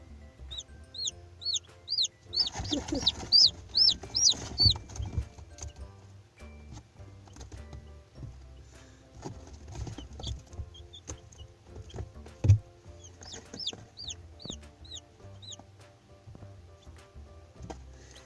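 Chickens cluck and peep in short bursts inside a coop, with high chirps from newly hatched chicks, scuffling movement and a sharp knock midway.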